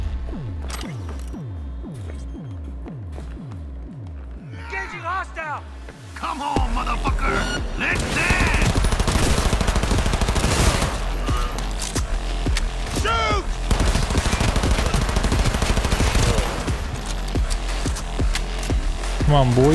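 Gunfire in the video game Cyberpunk 2077 starts as a rhythmic mechanical clatter, then swells into dense, continuous rapid shooting with chaotic combat noise. Voices are heard beneath it.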